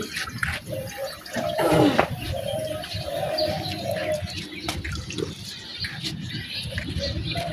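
Soft pigeon cooing repeats against a steady outdoor background with running water and faint voices.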